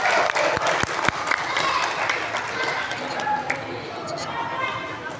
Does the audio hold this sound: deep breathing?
no